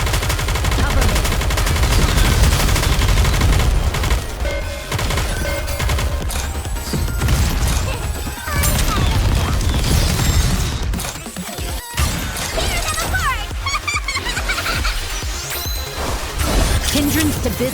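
Dense, continuous gunfire from the Goddess of Victory NIKKE campaign battle, with bursts and crashes layered over loud game music and effects throughout, and occasional character voice lines.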